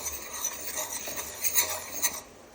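A spoon stirs sugar syrup with melting ghee in a pan, making soft scraping and light clinking strokes over a steady hiss, with a few sharper knocks near the end and no talking.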